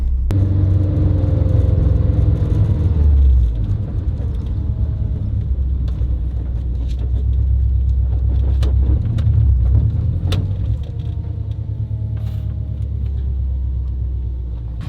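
A Subaru STI with a freshly swapped drivetrain rolls along, a loud low engine rumble and road noise heard from inside the car, easing slightly in the middle, with faint rattles and clicks.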